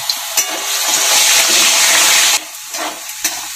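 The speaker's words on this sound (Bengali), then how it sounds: "সামান্য একটু হলুদ আর অল্প নুন দিয়ে আলুটাকে ভেজে নিচ্ছি।" Potatoes frying in hot oil with a little turmeric and salt give a steady, close hiss that swells loud for a couple of seconds, then drops to softer crackles with a few sharp stirring clicks.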